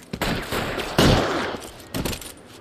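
Gunfire in a video-game shootout in L.A. Noire: dense overlapping shots and bursts run the whole time, loud and close, with a sharp heavier volley midway and another cluster near the end.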